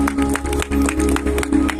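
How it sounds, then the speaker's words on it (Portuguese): A church congregation applauds in worship, claps pulsing in uneven bursts over a loud, sustained low musical hum. "Quantos podem aplaudir o Senhor?"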